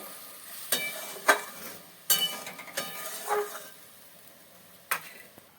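Scored boiled eggs cook in a pan of spiced egg curry with a steady close sizzle and bubbling, punctuated by several sharp metallic clinks and scrapes of a utensil against the pan; no one speaks.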